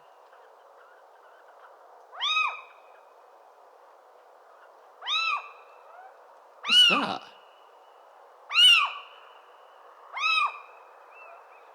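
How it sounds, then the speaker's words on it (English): A fox calling, five harsh, owl-like screeching cries spaced about two seconds apart over faint background hiss, with one brief voice in between. "It sounds like an angry owl, but much clearer. I'm going to say that's a fox."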